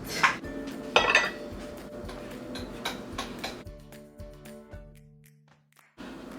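Dishes and cutlery clink while beef stew is plated with fried sweet plantain and coleslaw, bright scattered clatters and taps at close range with quieter pauses between them.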